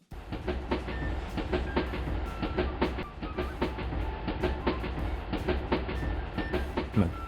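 A train pulling out, with rhythmic clickety-clack of wheels over rail joints repeating steadily, a brief whistle-like tone near the end, moderately loud and close.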